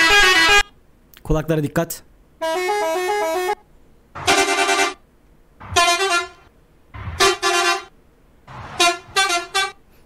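A video game mod plays a different car horn sound at each press. About eight separate honks come in short bursts of varying pitch with gaps between them, and a voice speaks briefly at the start.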